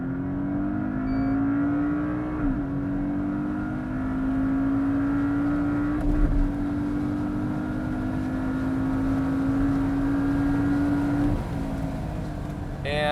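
A Porsche Cayman on an acceleration run: a steady, loud engine note rising in pitch, with a brief dip at a gear change, sustained close-up throughout.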